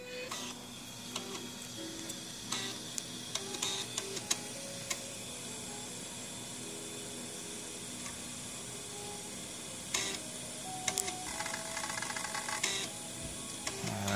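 SCSI hard disk heads seeking inside a 386 PC, producing rapid, irregular clicks and chattering ticks over a steady mechanical hum, heard up close with no talking.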